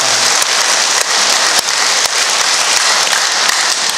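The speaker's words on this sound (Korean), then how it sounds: "하나님 앞에 영광의 박수를 치십시다" Congregation applause during a Korean church service: dense, loud, sustained clapping from many people that fills the whole stretch like steady rain, with no voices on top.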